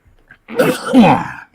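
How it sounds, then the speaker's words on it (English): A single sharp sneeze bursts out after a brief inhale, close and loud, then silence. "Hang on, I got a sneeze coming on."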